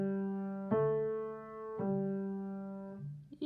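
Piano left hand plays the third bar of a beginner's Lullaby at an easy pace, three sustained low notes struck one after another with clear decays, heard alone and close.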